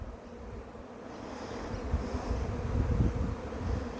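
A honeybee buzzes close by in a garden, a continuous droning hum with slight swells in loudness, alone without voices.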